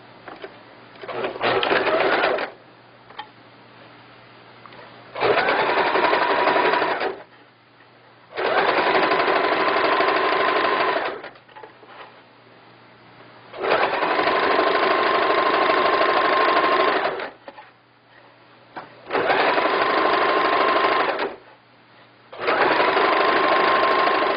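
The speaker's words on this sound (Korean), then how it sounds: "허리단 합복 박음질 이후에 오바록 처리를 하겠습니다." An overlock machine serges the waistband seam of a floral skirt in six loud bursts of steady whirring stitching, separated by short pauses with faint hum.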